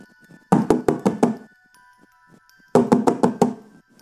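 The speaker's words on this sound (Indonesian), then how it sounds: "Tiba-tiba di pintu terdengar ketukan." Knocking on a door, two loud close bursts of about five quick raps each, separated by a short quiet pause.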